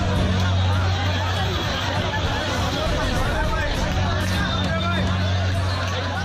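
A large, dense crowd of unemployed job seekers in Gujarat murmurs and chatters continuously, a loud, steady babble of many voices close by, with a security guard among them.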